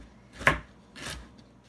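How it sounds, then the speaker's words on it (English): Two crisp knife strokes chop a carrot into rough pieces on a cutting board, the first sharper and louder, the second softer, with quiet kitchen room tone between. "Chop your carrot up however you'd like."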